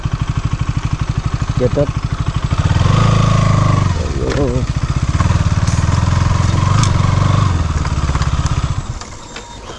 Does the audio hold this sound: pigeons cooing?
no